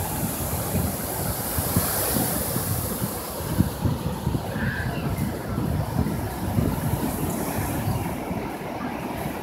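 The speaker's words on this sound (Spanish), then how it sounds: "esto que están viendo es la playa de Puerto Elizabeth. Es el Océano Índico." Indian Ocean surf at Port Elizabeth beach roars as a steady broadband wash of breaking waves, with gusts of wind buffeting the microphone throughout.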